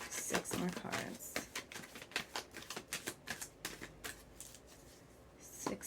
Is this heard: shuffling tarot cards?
yes